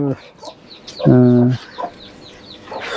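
Chickens clucking nearby in a remote hill village, short throaty calls with one louder drawn-out squawk in the middle, against quiet outdoor background.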